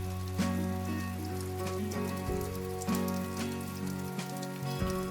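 Continuous patter of light rain on a surface, with a tonal hum and faint background music underneath, no voices.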